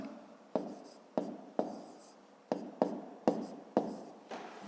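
Pen on paper marks out column multiplication of 78 by 12 in a fifth-grade math exercise, with about eight sharp stroke onsets, each trailing into a brief scratch, close and quiet.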